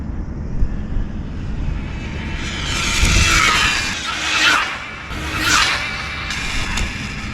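A Losi Grom NASCAR-style RC car runs with a smooth, fairly quiet motor whine that swells and fades as it passes several times, over steady outdoor background noise.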